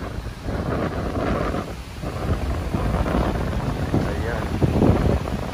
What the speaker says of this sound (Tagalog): Ang lakas ng hangin, kaya maraming nakaka-kitesurfing.